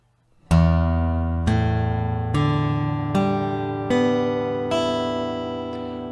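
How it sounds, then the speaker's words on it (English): Guitar strings plucked one at a time from the lowest to the highest, six clear ringing notes spaced about a second apart, each rising in pitch and sustaining into the next, played alone. "we can make sounds of different pitch simply by working up from a low string to a high string"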